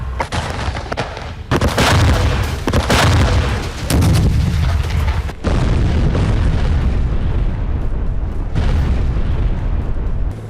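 Bombs dropped from the air explode during air strikes on Gaza, producing loud, heavy booms and rumbling blasts that overlap in quick succession, then a sustained roaring rumble with another sharp burst near the end.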